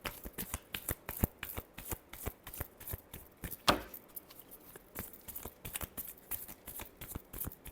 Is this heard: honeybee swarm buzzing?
no